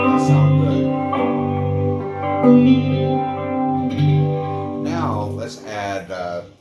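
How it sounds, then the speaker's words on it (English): Electric guitar with hall reverb engaged, sustained chords ringing out with a long wash of reverb and some tremolo, loud and close, with a brief spoken word near the end. "I got this on hall reverb right now"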